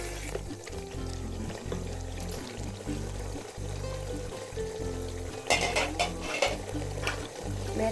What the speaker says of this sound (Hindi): अब मैं इसमें ऐड कर दूँगी वाटर।